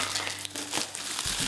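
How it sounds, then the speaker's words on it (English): Taped paper-and-plastic wrapping on a reborn baby doll package being pulled open, a continuous close crinkling and crumpling that runs without pause, with no talk over it. "It's sort of hard to get this package off."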